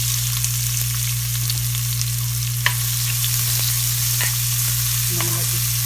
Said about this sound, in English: I'm going to let this fry